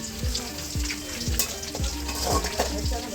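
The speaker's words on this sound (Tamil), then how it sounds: "கொதிக்கிற லெவல் நல்லா வந்து வெடிக்கிற அளவுக்கு வந்துருச்சு நல்லா கொதிக்குது" Hot oil sizzles steadily while whole spices burst into sharp popping crackles at a regular pace, close and fairly loud, with no voices.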